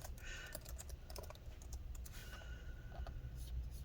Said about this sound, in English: let's go ahead and type the password here